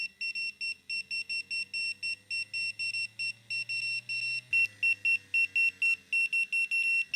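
An XNET VANE vape device beeps in a quick, steady series of short electronic tones, one per button press, clear and close with almost no background.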